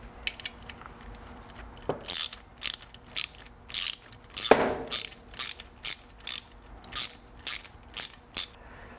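Ratchet tightening a timing belt tensioner bolt, a sharp, close series of about a dozen evenly spaced clicking strokes, loud and alone against a quiet background.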